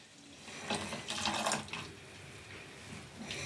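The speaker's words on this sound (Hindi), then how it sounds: "तो दूध को अभी ही हम इसमें डाल देंगे।" Warm, pre-heated milk poured into grated carrot halwa in a pan, a soft liquid splash and trickle rising over a few seconds and then easing, close and fairly quiet with no talk.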